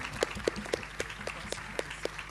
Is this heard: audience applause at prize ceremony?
yes